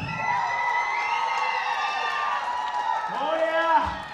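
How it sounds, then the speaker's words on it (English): A wrestling crowd cheers and roars steadily in a large arena, a dense continuous wash of voices with someone talking loudly over it near the end. "Oh yeah, cheer and laugh, cheer and laugh."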